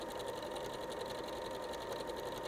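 A sewing machine runs continuously while stitching a patchwork quilt, a fast even whirring buzz with a rapid steady needle rhythm, heard close and alone.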